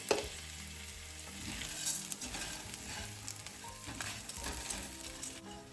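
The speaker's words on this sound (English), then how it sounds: "I'm going to add in my orzo." Dry orzo pasta sizzles and crackles steadily in a hot pan on a home stove, with occasional stirring scrapes, loud and close, no voices.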